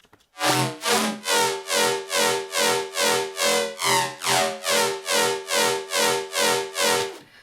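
Synth rhythm bass patch built in Maelstrom in Reason, pumping out a loud, bright, buzzy run of evenly spaced pulses, about two per second, alone with no voices.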